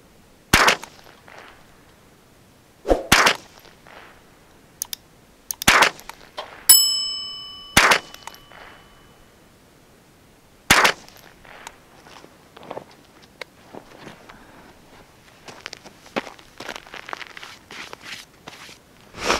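Ruger 10/22 rifle fired from a prone rest at 25 meters, a handful of sharp, separate cracks spread out over time, with a metallic ring and soft shuffling and handling noises between shots.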